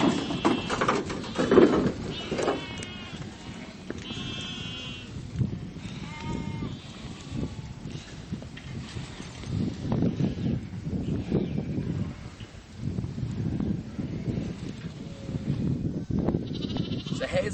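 Merino sheep and lambs bleat in farm yards on a wet shearing day, with repeated overlapping calls near and far over rustling and wind noise.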